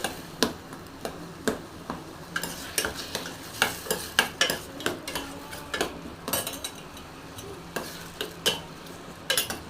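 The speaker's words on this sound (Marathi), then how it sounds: "स्लो गॅसवरतीच याला छान असं भाजून घ्यायचं।" Spoon stirring and scraping in a pan as ingredients roast over a slow gas flame for pineapple sheera, a steady run of clicks and scrapes with faint sizzling underneath, no talk.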